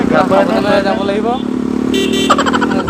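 Five motorbikes ride in a slow group line along a road in Assam, their engines droning steadily while someone talks over them. A horn toots near the end.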